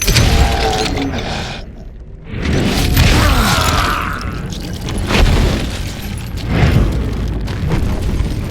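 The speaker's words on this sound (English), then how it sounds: "All it takes is one tiny spark, and boom." Loud explosion in a mine in Call of Juarez Gunslinger, a deep rumbling blast followed by creaking, grinding mechanical debris and further heavy booms that roll on for several seconds.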